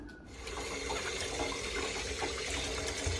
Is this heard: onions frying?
no